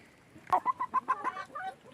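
Free-range hens cluck close by in a short series of about six quick, evenly spaced clucks that trail off into softer calls.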